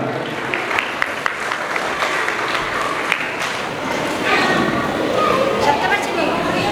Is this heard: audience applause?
yes